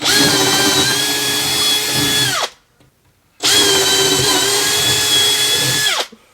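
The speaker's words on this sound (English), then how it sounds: "I'm going to get my larger 12mm drill bit and drill a bigger hole" A power drill with a 12mm bit bores holes through the floor of a Toyota Coaster motorhome in two steady, loud, close runs of whining grind, each about two and a half seconds, with a short silent pause between them.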